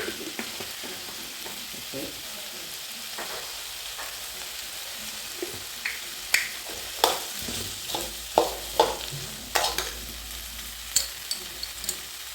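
Spoon stirring chili powder into mango curry frying in a pan, a steady soft sizzle with scraping strokes that grow more pronounced in the second half, close and alone.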